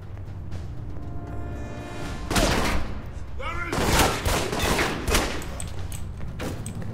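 Gunfire in the video game Alpha Protocol: sharp bursts of shots and rapid volleys in the middle of the clip, loud and close, amid game ambience and a speaking voice.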